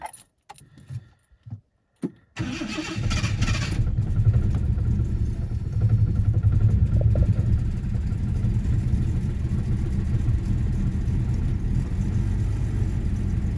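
Keys jangle and click briefly before a Jaguar XJC engine cranks and catches, then settles into a loud, steady, rumbling idle that carries on to the end.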